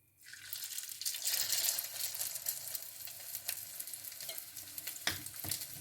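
Salmon patties sizzle in hot grease in a pan, a steady bright crackle that starts suddenly and carries on without a break, with a few sharper pops and spatters near the end.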